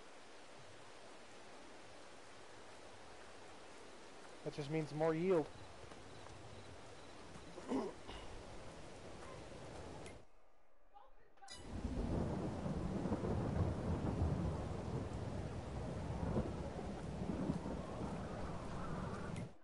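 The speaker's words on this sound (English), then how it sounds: "Oh god, it's raining." Heavy rain pours steadily on a farm during harvest, with a dull thunder rumble early on and a person speaking briefly before the downpour swells into a dense, continuous hiss.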